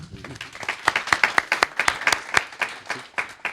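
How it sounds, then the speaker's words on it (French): Applause at an Occitanie regional conference on maritime policy: distinct, sharp claps from a modest audience in an uneven rhythm, rising briefly and then thinning out. "On peut l'applaudir."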